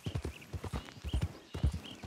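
Horse hooves clip-clopping in Red Dead Redemption 2, a quick uneven run of close thuds in bursts, with brief high whinny-like squeals over them.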